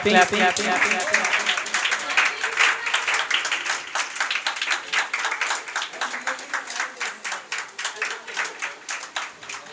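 Students clapping at a school Teacher's Appreciation Day prize ceremony, a group burst of applause that settles into a looser, steady patter of individual claps, with faint voices under it.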